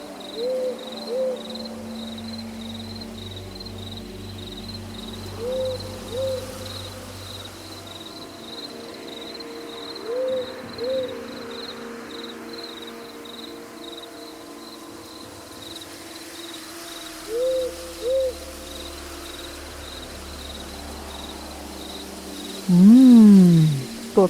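At night an owl repeats a soft double hoot about every five seconds, over a steady high cricket trill and low rumbling background, ending with a louder sweeping call.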